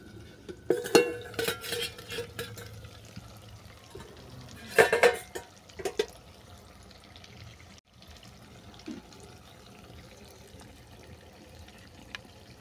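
A pot lid is lifted off chicken curry, then a few clinks and scrapes of a spoon stirring in the pan. The sounds come in short close bursts between long quiet stretches.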